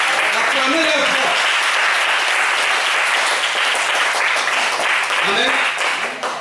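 A church congregation applauds steadily and loudly throughout, a dense wash of clapping with voices rising faintly beneath it before it tapers off at the end.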